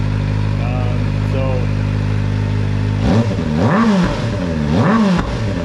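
A Kawasaki ZX-4RR motorcycle with a Yoshimura AT2 slip-on exhaust idles steadily, then is revved twice in quick succession, rising and falling sharply; a voice speaks briefly early on.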